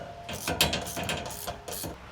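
Bolts holding a rear roof shelf to the side panels of an Isuzu MU-X are tightened with a ratcheting tool, producing soft, quick mechanical clicks and ratchet strokes close by in short repeated bursts.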